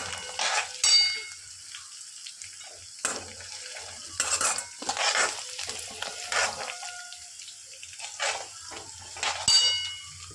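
Red chillies frying in hot oil in a pan for tomato chutney, with a soft steady sizzle, occasional utensil scrapes and clinks, and brief louder bursts, no talking.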